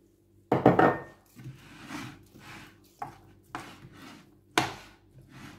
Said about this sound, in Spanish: Voy a cortar la manzana